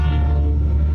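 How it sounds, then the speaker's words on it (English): A CSX freight train with two locomotives and 37 freight cars sounds a loud, sustained horn chord, close and steady over a low rumble, for about a second. "I heard and I saw the train."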